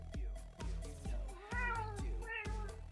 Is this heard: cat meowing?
yes